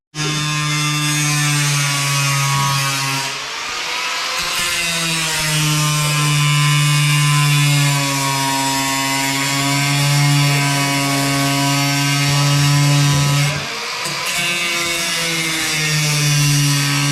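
An angle grinder cuts into the steel body of a BMW E30, a loud, steady high-pitched whine with a strong tonal drone that runs almost continuously, dipping briefly twice as the blade eases off and bites again.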